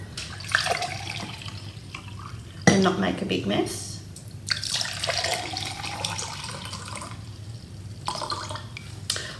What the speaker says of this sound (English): What you have to do is we have to fill up these glasses with some water